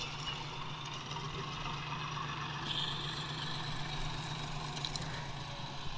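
A John Deere 5310 tractor with a three-cylinder 55 HP engine idles steadily, a constant low throbbing hum close by with no voices.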